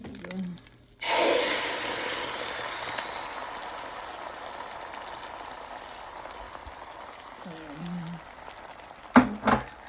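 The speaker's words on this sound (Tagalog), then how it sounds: "Pritong itlog." Eggs frying in a pan give a steady, close sizzle that starts abruptly after a second of quiet and hisses on evenly, with a brief murmur of voice near the end.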